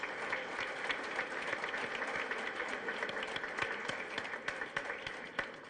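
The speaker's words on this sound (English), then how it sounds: "give a huge round of applause to our esteemed panelists" An audience at a business school HR conclave applauds the panelists, a sustained wash of many hands clapping from a distance, fairly faint and even throughout.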